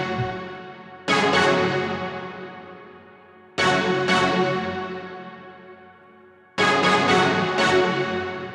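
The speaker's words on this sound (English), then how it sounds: "So that brass, that synth gives it like that stabby sound at the beginning, but the brass makes it feel like orchestral and big." A layered synth and brass melody for a trap beat hits in three loud stabbed chords, each ringing out and fading slowly before the next, big and orchestral in tone, with no talking.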